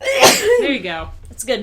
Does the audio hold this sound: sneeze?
yes